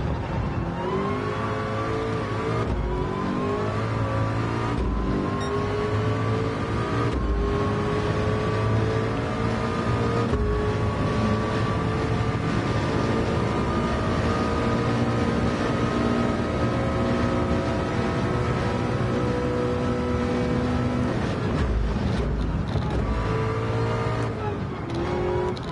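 Race car engines from the Le Mans VR racing game, a steady loud mechanical whine with layered harmonic tones holding over a low rumble, broken by a few short gear-shift dips, with no talking.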